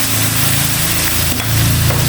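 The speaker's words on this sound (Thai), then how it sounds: "เราก็จะใส่น้ำปลาลงไปที่ขอบกระทะนะคะ" Loud, continuous sizzling of fish sauce poured onto the edge of a hot wok, a dense crackling hiss with stirring scrapes underneath.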